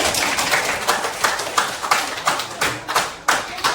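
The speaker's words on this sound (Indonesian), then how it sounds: "Iya, berikan aplaus dulu." A classroom of students claps for a group after its presentation, giving fairly sparse, rhythmic applause that fades toward the end, with some voices in the background.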